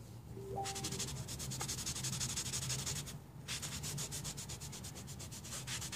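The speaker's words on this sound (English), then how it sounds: "this is just doing it with a regular microfiber towel here, and the spot is gone" Microfiber towel rubbed briskly over pool table cloth to wipe away a spot, a steady close scrubbing swish with rapid strokes and one short pause midway.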